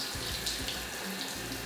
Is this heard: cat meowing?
no